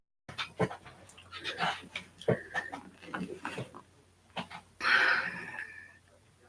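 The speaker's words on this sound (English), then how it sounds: "I thought I heard a dog" A dog whines in a few short, high-pitched bursts, with breathy panting and sniffing between them, close by and fairly quiet.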